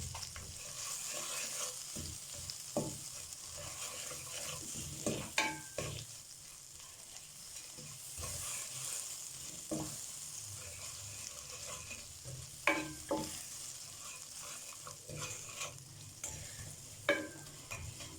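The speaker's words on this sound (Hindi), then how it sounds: "बस हल्का सा इस बटर को मेल्ट करूंगी। दम वाली आंच पे मैं इनको कर रही हूँ।" Butter melting gently in a pan over low heat, with a quiet, steady sizzle and occasional soft scrapes and clinks of stirring for popcorn chicken.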